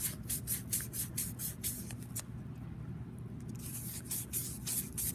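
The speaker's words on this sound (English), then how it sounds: "So I'm going to sand the entire surface down as well with this." Sandpaper rubs across a metal surface in quick rhythmic strokes, a close, dry scratchy hiss that pauses briefly midway.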